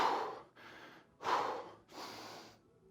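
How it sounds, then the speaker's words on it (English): A person breathes heavily after a bodyweight workout, taking four deep, close, audible breaths in and out in a slow rhythm, with no talking. "Big breath in. Double breath out."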